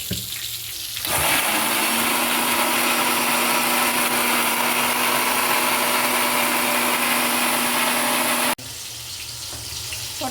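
A kitchen blender grinds whole cumin and other spices with water in a steady, loud whirring run of about seven seconds, starting abruptly and cutting off sharply near the end, with quiet room sound before and after.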